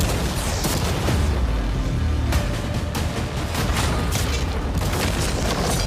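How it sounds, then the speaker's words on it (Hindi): Cannons firing at a yacht, a dense loud barrage of booms and blasts that runs without a break, with impacts crashing in. "अब हम तुम्हारी नई यॉट पर कैनन्स को शूट करने वाले हैं"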